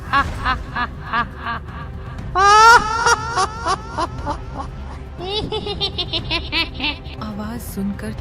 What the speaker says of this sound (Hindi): तभी ऊपर की मंजिल से किसी औरत के धीरे धीरे रोने की आवाज आने लगी।